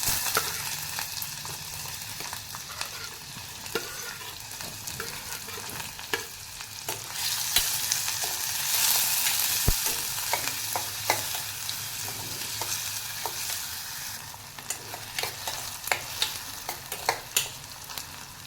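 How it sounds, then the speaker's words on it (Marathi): Onion, tomato, green chili and garlic sautéing in oil with mustard seeds for a broad bean vegetable dish, a steady sizzle with repeated clattering stirs of a spoon in the pan, louder mid-way. "कांदा टमॅटो मिरची आणि लसूण आपण परतून घेणार आहोत"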